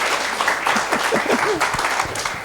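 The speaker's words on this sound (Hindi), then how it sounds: "जोरदार ताली" Enthusiastic audience applause at a business seminar, dense continuous clapping from a crowd, with a few voices calling out faintly beneath it.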